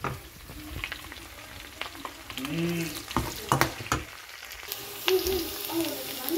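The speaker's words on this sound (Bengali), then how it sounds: "পেঁয়াজটা ভাজা হয়ে গেছে" Onions frying in a pan while dry fish is cooked, with steady sizzling and several sharp stirring scrapes and clinks, no talk.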